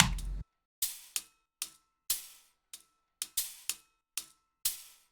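A single hi-hat and shaker percussion loop from a music track gives sparse, sharp metallic ticks with short decaying tails in an uneven rhythm, separated by silent gaps, clear and alone.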